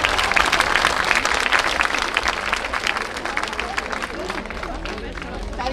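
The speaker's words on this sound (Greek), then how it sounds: "ένα μεγάλο χειροκρότημα" Loud, sustained applause from a crowd at a charity event after a children's performance, dense and close, with voices and babble mixed in as it slowly thins.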